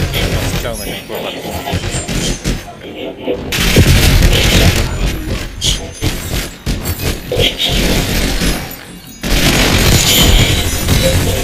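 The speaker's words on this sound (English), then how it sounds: "Why are you shooting me" Gunfire and heavy booms in Call of Duty Black Ops 6, with loud repeated shots and impacts running throughout, mixed with voices talking over the action.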